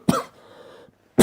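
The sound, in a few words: cough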